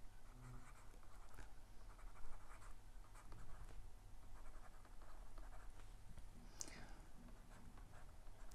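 Chalk or marker scratches faintly across a board in a quantum field theory lecture, a run of soft strokes and taps over low room hum with no one speaking.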